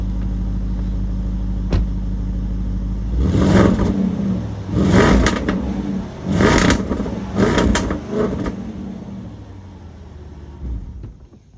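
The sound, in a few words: Land Rover Defender V8 exhaust revving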